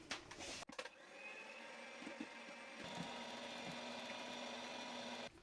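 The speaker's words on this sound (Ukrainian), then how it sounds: "І ще раз збиваємо міксером" A steady electric mixer whirs through kefir cake batter with honey and soda, a continuous faint motor drone starting after a brief clatter and running evenly until it stops near the end.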